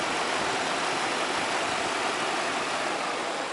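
A BMW E38 740i with the M62 TU V8 sits idling, a steady, dense broadband engine hum with a slight rattly edge, close and continuous throughout with no talking.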